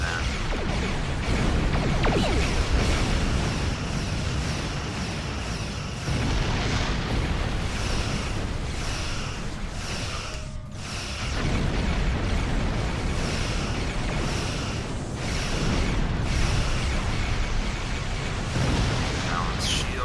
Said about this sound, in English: Get ready a nice full-on torpedo barrage.